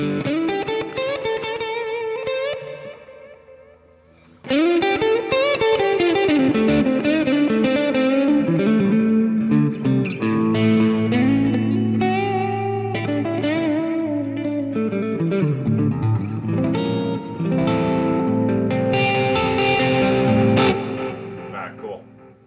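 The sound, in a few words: electric guitar with reverb, delay, drive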